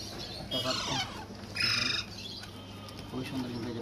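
Young Alexandrine parakeet chicks give short bursts of shrill, raspy calling, two louder squawking spells followed by a fainter call, close by against a low steady hum.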